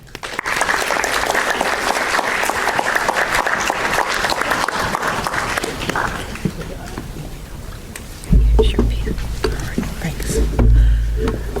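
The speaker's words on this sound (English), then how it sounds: "Please join me and my family, the other inductees, and this wonderful community in really applauding Vernice as a true pillar of our community" An audience applauds at a Hall of Fame induction ceremony in Park Forest, sustained loud clapping for several seconds that thins out and gives way to low rumbling noise and a voice near the end.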